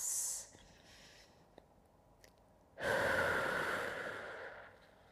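A single deep breath drawn in and out through the nose during a yoga recovery session: a soft, airy rush that swells suddenly, holds loud and close for about two seconds, then fades, with quiet room tone before it.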